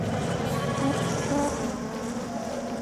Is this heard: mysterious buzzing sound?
yes